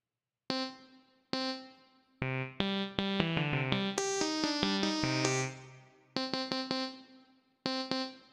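Synthesizer notes ring out with a reverb tail, first as isolated hits, then a busy run of sustained tones, then sparse hits again.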